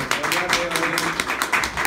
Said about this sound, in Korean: 박수로 한번 더 환영해 주십시오.